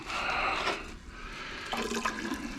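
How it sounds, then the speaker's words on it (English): Dark gold recovery solution is poured off from a container, a continuous watery pouring and splashing sound that is fairly faint and heard alone. "So I'm just pouring off, even though it's a dark solution"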